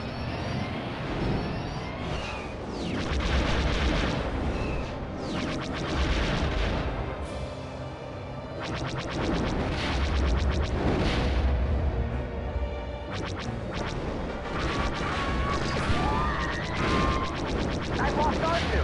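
Heavy blasting and booming explosions roar through dense Rogue Squadron 3D space combat, loud and continuous in surging waves, with brief lulls and a voice talking at times over the din.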